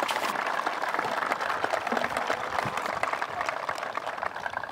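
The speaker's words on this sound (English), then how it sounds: "can we have a round of applause for Mrs. Milhone?" Sustained applause fills a graduation ceremony hall, a dense, steady wash of clapping from a large audience with no break across the whole stretch.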